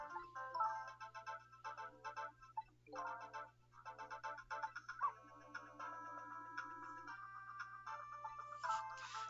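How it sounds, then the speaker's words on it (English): An electronic phone ring in the Ghost Trick: Phantom Detective video game, faint, chirpy tonal bursts repeating over a low steady hum, with no talking. "We've just never run into a situation where Sissel's at a phone which is ringing and nobody picked up."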